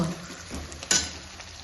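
Onion tadka fries in a pan with a soft, continuous sizzle while a spoon stirs and scrapes against the metal, one sharper clink standing out briefly partway through.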